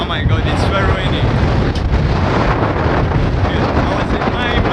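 Wind buffets a microphone outdoors on a rainy day along a road in Uganda, producing a loud, continuous roaring rumble that stays steady and fills the whole stretch without a break.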